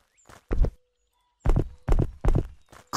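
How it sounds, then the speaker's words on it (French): Galloping horse hoofbeats from the Pumping Simulator 2 video game, a few loud, close clip-clop bursts in uneven groups separated by short silences, heard alone. "pourquoi ça fait un bruit de cheval au galop cette merde?"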